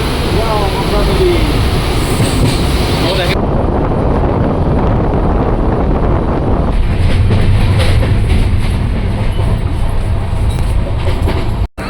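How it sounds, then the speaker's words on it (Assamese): A passenger train on the Kolkata to Guwahati route crosses a bridge over the Ganga river with a loud, continuous rumble and rhythmic clatter, wind buffeting the microphone and a voice speaking over the noise. "আমি গংগা নদীৰ ওপৰেদি ট্ৰেইন জাৰ্ণি কৰি আছোঁ"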